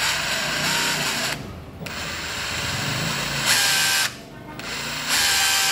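A used Japanese cordless drill set to hammer mode runs at full speed with a loud, steady whine, cutting out briefly twice before spinning up again.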